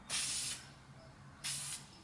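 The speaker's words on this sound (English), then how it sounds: "She's going to go ahead and lay it on the first coat." Two short hissing bursts of spray paint lay a light mist coat on a Nissan 350z rear fog light, each about half a second long and close, with quiet gaps between.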